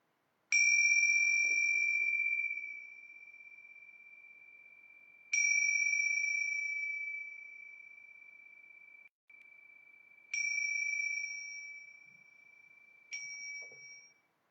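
A meditation bell struck four times at a morning meditation session, each clear ring sustaining and fading slowly before the next strike, alone in a very quiet room.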